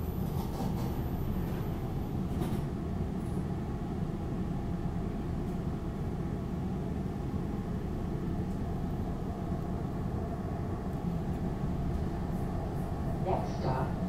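SEPTA Market-Frankford Line subway train running, a steady low rumble and hum of the moving car throughout, with faint occasional clicks and an announcement voice in the background.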